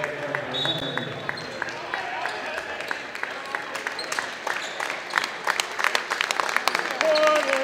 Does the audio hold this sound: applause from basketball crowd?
yes